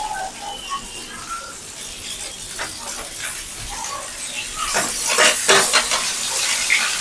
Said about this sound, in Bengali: এবার চিকেন গুলো দিয়ে দেওয়া হলো এই গরমে।